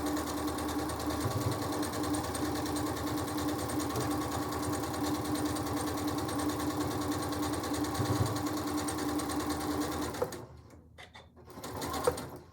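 A sewing machine runs steadily while back stitching a quilt square, a continuous close mechanical whir that stops near the end and then briefly starts again.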